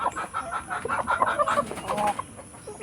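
Chickens on a provincial farm cluck in quick, uneven bursts, several birds close by and overlapping in short choppy calls.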